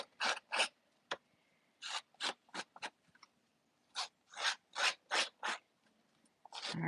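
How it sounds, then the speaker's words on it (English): Paper snips distress the edges of card stock in short bursts of scraping, rasping strokes, a dozen or so quick close strokes in uneven clusters with brief pauses between. "So I'm going to grab my paper snips."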